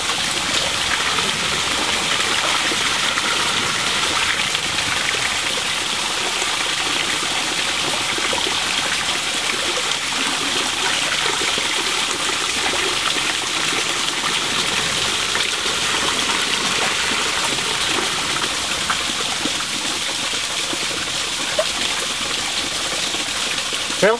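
Water drains and gushes steadily from a ram pump intake pipe outdoors, a continuous, even rushing splash that holds at the same level throughout.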